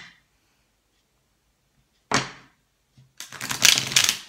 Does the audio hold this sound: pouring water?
no